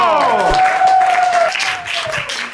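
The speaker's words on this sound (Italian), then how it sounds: "un bel applauso a Roberto, Roberto Severino!" A studio audience applauds and cheers a stand-up comedian walking on for an Italian comedy show, loud and sustained, with music or a host's voice tones running over the clapping.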